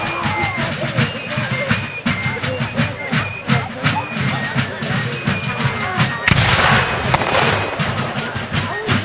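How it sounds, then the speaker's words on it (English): Artillery at a Siege of Fort Erie reenactment sends out repeated booming cannon blasts and rapid cracking volleys in dense, irregular bursts, loud and close, with crowd noise and voices mixed in. "Seems the American artillery has got the range now."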